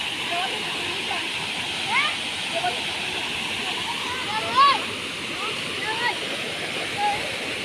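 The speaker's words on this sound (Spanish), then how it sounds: "A cascadas de Laguna Verde, Tultepec, Estado de México." The waterfall at Cascadas de Laguna Verde in Tultepec, Estado de México, roars as a steady broadband rush, with faint voices and bird calls over it.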